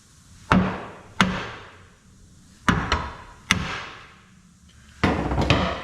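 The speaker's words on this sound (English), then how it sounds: "And then just tap it over with a hammer." Five sharp metallic hammer taps on metal during a snowplow conversion build, spaced unevenly, each ringing briefly before fading, close by with no talking.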